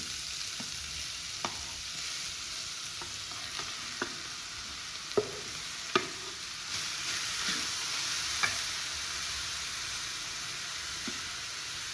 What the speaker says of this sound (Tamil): இப்போ அந்த நெய்யிலே போட்டு வதக்கிக்கலாம்.